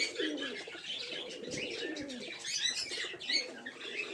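Giribaz pigeons coo softly and repeatedly in a loft, low throaty rolling calls overlapping with faint chirps, quiet and close with no voices.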